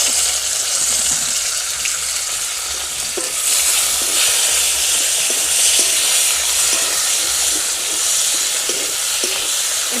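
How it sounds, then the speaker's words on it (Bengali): Chopped onions and tomatoes fry in oil with cardamom and clove, sending up a loud, steady sizzle with faint scraping stirs dotted through it, heard close and without any talking. "এবার এর মধ্যে দিয়ে দেবো কুচি করা পেঁয়াজগুলো আর টমেটো"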